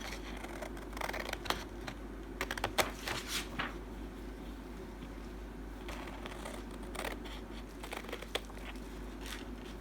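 Scissors snip through a sheet of paper while cutting out a small marked section for a simple Easter craft, giving quiet, irregular clicks and crisp rustles close by over a faint steady hum.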